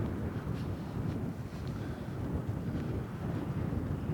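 Wind blowing outdoors across a disc golf course, a steady low rumbling buffet against the microphone that holds at an even level throughout, with no voices.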